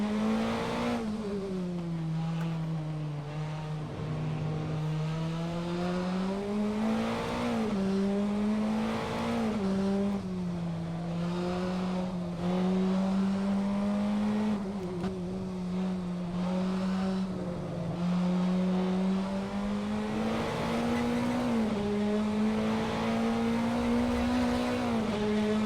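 A Caterham 420R race car at Okayama in a racing video game holds a loud, continuous engine drone that rises and falls with throttle, with scrubbing tires squealing under braking.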